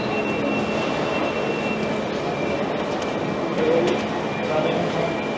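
A train sits at a busy station platform, its steady rumble and hum continuous throughout, with people talking nearby and a slight swell near the end.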